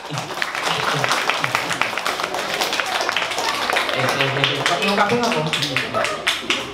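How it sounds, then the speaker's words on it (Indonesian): Audience clapping to welcome a storyteller at a children's storytelling session, a busy patter of hands with a voice talking over it and scattered taps throughout. "Beri tepuk tangan."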